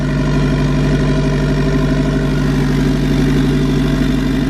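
A turbocharged B18-engined Honda Civic idles smoothly and steadily, a constant low rumble close by with no revving.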